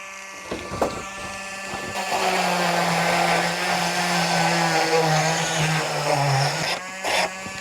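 A Dremel rotary tool with a straight cutter bit cutting out a ring in a tombstone prop: a high, whining motor spins up after a few taps and holds steady with a grinding buzz, then drops away near the end, close and with no voices.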